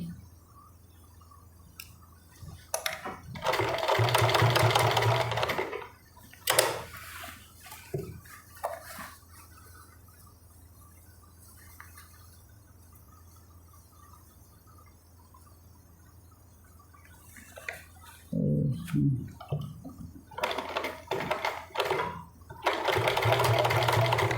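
A sewing machine stitching a Punjabi suit, several loud, close bursts of rapid whirring stitching separated by quiet pauses and fabric handling, the longest runs near the start and the end.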